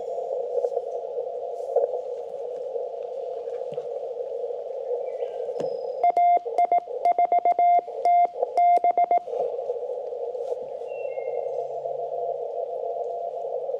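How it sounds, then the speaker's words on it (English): A weak Morse code CQ call received on an amateur radio during a Parks on the Air outing with a zBitx transceiver: a thin, steady keyed tone of dots and dashes for about three seconds, buried in a constant hiss of band noise. "even when it's really weak like this, I can make out the CQ beautifully, even under the natural noise"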